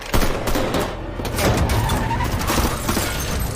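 A dense burst of blind gunfire in a sniper film scene, loud and sustained with overlapping shots, cracks and smashing debris, and no talking.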